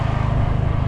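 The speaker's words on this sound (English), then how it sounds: "Oh, that's a bus." A bus passes close by on a street, a brief deep rumble that holds steady for a moment, with no voices.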